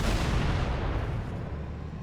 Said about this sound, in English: At least the main cannon's alright.